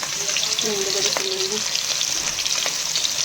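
Pieces of fish fry in hot oil with a loud, steady crackling sizzle, a few soft clinks of a utensil, and faint talk in the background.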